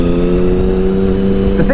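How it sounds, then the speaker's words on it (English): A 2005 Triumph Sprint ST triple-cylinder engine idles through three exhaust pipes with a steady, throaty hum, close and loud, and a brief higher-pitched sound near the end. "the sound of this triple engine out of those three pipes"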